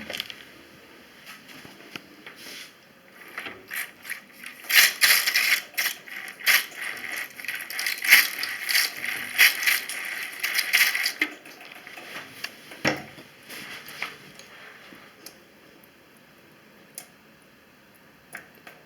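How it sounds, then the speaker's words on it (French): A neighbour's irregular metallic tapping and clattering, like hammering at DIY work, carries through a flat during a washing-machine leak inspection, with bursts clustered in the middle and fading later. "Quand vous entendez le marteau, c'est mon voisin qui bricole"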